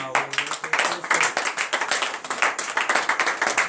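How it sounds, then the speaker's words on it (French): A congregation at a morning prayer service in Benin clapping and cheering in praise, loud rhythmic group claps pulsing steadily throughout. "de se relever sur ses pieds et donner de vives acclamations à notre Seigneur Jésus"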